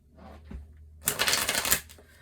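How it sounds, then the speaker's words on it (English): Playing cards riffle-shuffled up close, one dense crisp burst of rapid flutter lasting about a second, with faint room noise and a soft tap before it. "Let's get a couple shuffles."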